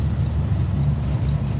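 Car with worn seals and a short exhaust idles or drives with a steady, loud low-pitched engine drone and rumble throughout, close by, with no talking.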